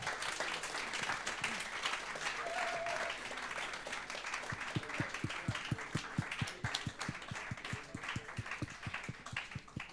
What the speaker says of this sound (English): Then the whole team of Lumetric, please come to the stage and give them a big applause.